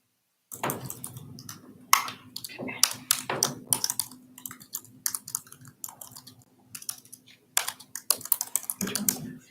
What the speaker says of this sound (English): I was busy typing